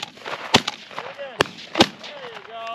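Shotgun blasts at a pheasant and chukar hunt, several sharp loud reports in quick succession outdoors, with voices calling between the shots.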